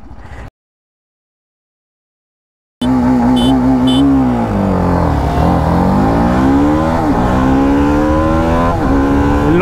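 Kawasaki Ninja 300 and BMW G310RR motorcycles launching hard, engines revving loud and close with rising and falling pitch sweeps after a brief silent gap, continuous throughout.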